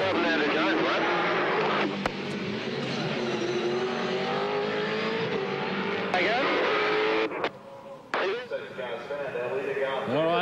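Race cars on a racing circuit, loud engine roar with rising and falling pitch as cars pass, under continuous commentary from a voice speaking over the track noise.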